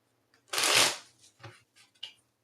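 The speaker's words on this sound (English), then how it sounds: "I've been sitting here shuffling for a bit" A deck of Barbieri tarot cards is shuffled close by: one loud riffling burst followed by several shorter, softer flutters and taps.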